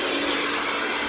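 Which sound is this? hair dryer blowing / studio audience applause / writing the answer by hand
hair dryer blowing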